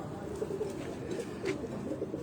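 A heavy-bodied, thick-headed racing pigeon coos softly in low, rolling murmurs close by, repeated several times against a steady background hum.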